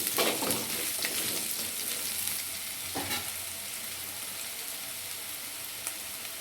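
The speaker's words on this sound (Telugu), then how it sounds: "మనం కర్రీని ఒకసారి ఇలా కలుపుకోవాలండి" A potato and carrot fry curry sizzles in a pan while a spatula stirs it, with a few sharp scrapes and knocks over a steady, loud frying hiss and no talking.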